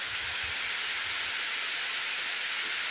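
Heavy rain pouring outdoors in a rural cattle field, a dense, steady hiss filling the whole clip with faint low thumps early on.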